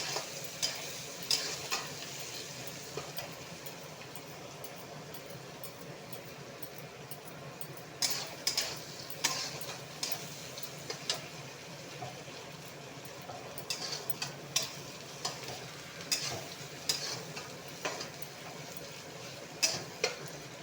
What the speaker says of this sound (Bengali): টমেটো দিয়ে এলাম টমেটোটা ভাজাও